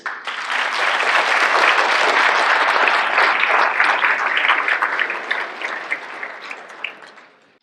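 A dinner audience at an annual recognition banquet gives a sustained round of applause, dense clapping swelling quickly, holding steady for several seconds, then thinning out and fading at the end.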